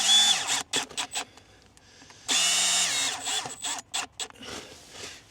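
A power drill drives screws into a lid fitted with a gasket, whirring in several short bursts with one longer sustained run in the middle, close and fairly loud.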